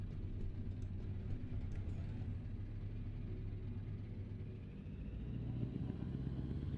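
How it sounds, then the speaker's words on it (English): A modded truck engine in Euro Truck Simulator 2 drones steadily with a deep, continuous rumble, fairly quiet and even throughout with no speech. "Wait, do they have an engine sound mod on this?"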